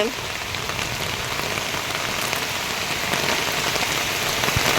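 Heavy rain pouring down in Odisha, a dense, loud, continuous hiss of drops hitting surfaces that builds slightly toward the end, with no voices over it.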